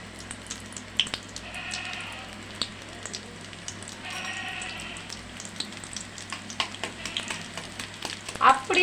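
Onions dropped into hot oil for an egg kothu fry with a crackling, spitting sizzle, dotted with sharp pops and a louder burst near the end.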